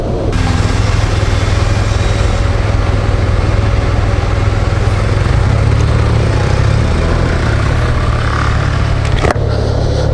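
A 2021 Yamaha TMAX 560 Tech Max scooter engine running hot while idling, a loud, close, steady mechanical drone that holds level throughout with no one speaking.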